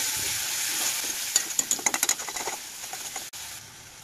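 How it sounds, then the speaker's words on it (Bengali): Spice masala of turmeric, coriander and chili powder frying in a pan with salt, for a lote fish jhuri; a steady close sizzle carries a run of quick scraping stirs through the middle, with no one speaking. "তো ভালো করে মশলাটা কষিয়ে নেব।"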